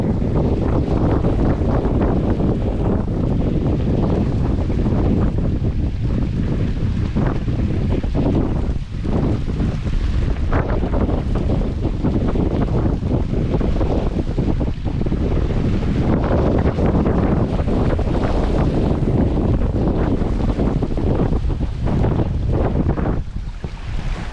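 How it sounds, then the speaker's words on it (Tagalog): Strong outdoor wind roars steadily and loudly into the microphone with continuous buffeting and gusting throughout, amid a rainy, changeable day. "Lakas ng hangin."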